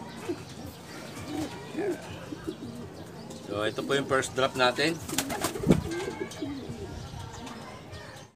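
Racing pigeons returning to a small loft after a training lap coo and call repeatedly at close range, with a burst of rolling coos and fluttering in the middle, while someone talks over them.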